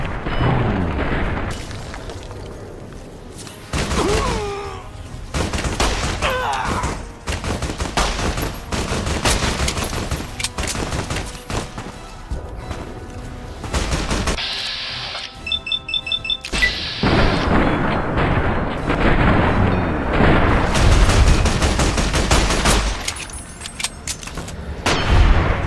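Dense gunfire and booming explosions rage through a battle against the Legion in modded Fallout New Vegas on PC, rapid bursts and heavy blasts layered loud and continuous, with brief lulls between volleys.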